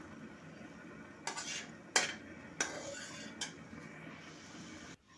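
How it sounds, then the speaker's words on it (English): A metal spoon scrapes and clinks against a pan while leftover roti halwa is stirred and roasted, a few sharp scraping strokes over a faint background hiss, close and fairly quiet. "have to keep on roasting it until it gets color"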